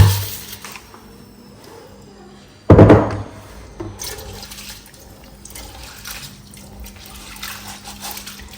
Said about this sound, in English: So guys, we start by washing our rice.